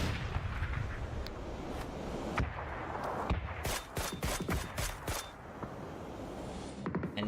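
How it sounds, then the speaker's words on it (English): Mortar fire in a competitive video game match, a rumbling barrage of repeated booming blasts and sharp cracks in quick, uneven succession, loud and dense against a constant background roar. "These mortars are coming out."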